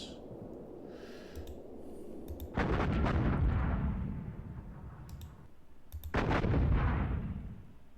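Two heavy artillery salvos from a Panzer Campaigns Poland 1939 wargame boom out, one near 2.5 seconds and another near 6, each a loud blast rolling off into a long rumbling decay over low background noise.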